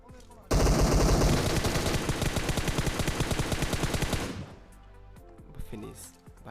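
Rapid MK14 rifle fire in a video game, a loud burst of fast, regular shots lasting several seconds that stops abruptly, followed by quieter game sounds.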